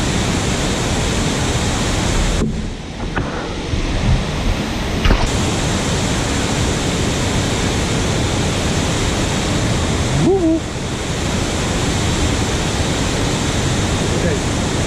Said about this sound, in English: Stare at the spillway.